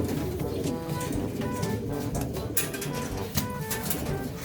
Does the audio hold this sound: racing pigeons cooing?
yes